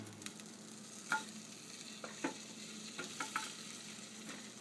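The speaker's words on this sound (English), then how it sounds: "that's how I melt my butter and stuff in there" Butter melting in a pot on a stovetop burner while a utensil stirs it, with soft scraping clicks and a faint low sizzle, close and quiet, no one talking.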